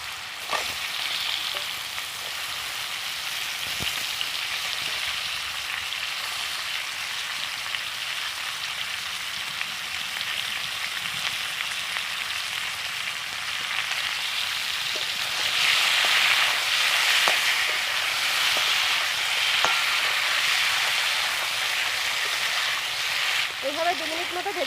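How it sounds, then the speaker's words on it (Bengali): Mango pieces fry in hot oil with mustard in a pan, a continuous hissing sizzle that swells louder midway, with occasional stirring clinks and a voice talking over it. "এইভাবে 2 মিনিট মতো ভেজে নিতে হবে।"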